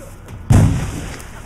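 A grenade goes off in the pirate game Assassin's Creed IV: Black Flag, one sudden close blast with a low rumble that fades over a second, no talking.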